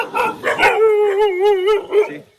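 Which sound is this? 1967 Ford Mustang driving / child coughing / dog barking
dog barking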